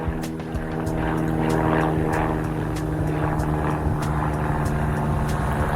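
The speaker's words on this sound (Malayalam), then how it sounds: "ദേ മോളിൽ കൂടെ ഒരു കുഞ്ഞ് വിമാനം പോകണം." A small propeller plane passes overhead outdoors on a partly sunny day, its steady droning engine hum holding for several seconds at moderate loudness with faint ticking noises over it and no voices.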